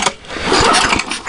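An old 1970s Snapper lawn mower fitted with a Yard Machine engine cranks and catches, giving a loud, close, rough rising engine sound that sputters briefly, with no voices.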